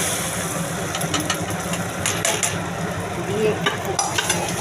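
Tempering spices for a masoor dal tarka crackle in hot oil, a loud, dense sizzle that keeps going with brief sharper pops and a low rumble beneath it.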